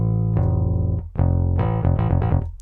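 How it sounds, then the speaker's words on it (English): Rickenbacker bass playing a short phrase of deep sustained notes and slides in a children's corporate music track, loud and upfront, with no voices. "This is the Rickenbacker bass."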